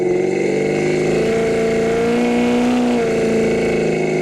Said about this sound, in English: When you get in the throttle, the exhaust sounds really good.